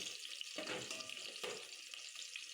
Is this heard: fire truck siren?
no